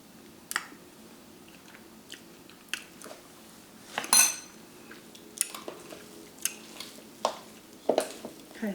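Cream cheese mixed with sugar in a bowl, soft wet squishing and scattered clinks of a utensil against the dish, several separate strokes at uneven intervals, close and fairly quiet with no talking.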